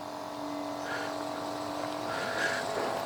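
An E-flite P-51D Mustang 1.0m RC plane flies overhead, its electric motor giving a steady whining drone at moderate distance that swells slightly as it passes.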